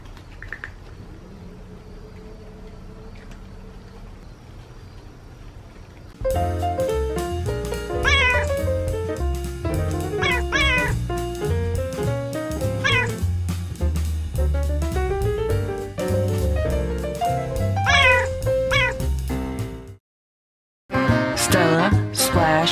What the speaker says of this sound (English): The cats are all eating their crunchies